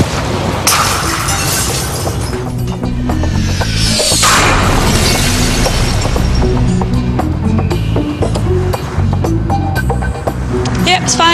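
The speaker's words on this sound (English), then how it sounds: "I'm going to drop a tile about the same size as the ones on the Opera House from more than 10 metres" A glass tile like those on the Sydney Opera House is dropped from over 10 metres and hits the ground with a loud, sharp impact. A dense, steady wash of background sound continues throughout.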